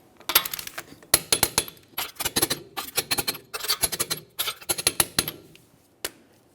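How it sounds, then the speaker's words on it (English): Lug nuts on a 2010-2013 Kia Forte Koup wheel being tightened with a torque wrench in a crisscross pattern, giving close, sharp metallic clicks and clinks in quick bursts separated by short pauses. "we'll be torquing these in a crisscross manner"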